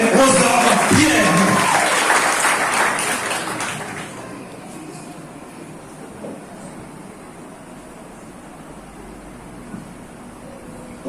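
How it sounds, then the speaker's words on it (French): Graduation ceremony audience at a vocational training centre bursting into loud applause and cheering for a student speaker, dense clapping and shouts for about four seconds before fading to a quiet room murmur. "Applaudissez s'il vous plaît, Rose-Dove Pierre."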